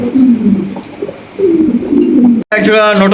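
Large pigeons at a bird market sale coo loudly and close by in repeated throaty, rolling calls, with a brief cut near the end before another call begins.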